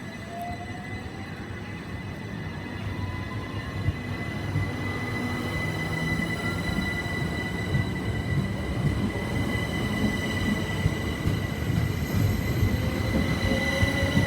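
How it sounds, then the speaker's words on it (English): Electric multiple-unit train departing Barnham station, with steady rumbling wheels, faint brake squeal and long, high whining tones over constant rail noise, close and continuous, with no talking. "I heard a brake squeal."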